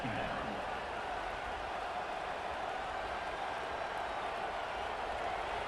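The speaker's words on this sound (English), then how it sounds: "this crowd is turning it up a notch" A steady roar from a college football stadium crowd at a Wisconsin vs Iowa game in the College Football 25 video game fills the whole stretch, loud and unbroken, with no clear individual voices.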